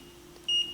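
A multimeter gives a short, clear continuity beep as its probes touch the terminals of a dead Advent 1 stereo speaker, a single steady tone lasting a fraction of a second over low hum.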